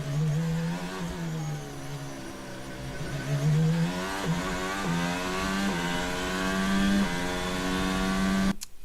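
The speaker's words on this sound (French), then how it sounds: "Voilà, ça c'est une accélération progressive après que le virage ait été passé." A Formula 1 car at the 2022 Abu Dhabi Grand Prix accelerates steadily out of a corner, its engine rising in pitch through several quick gear changes. It is loud and close, then cuts off at the end.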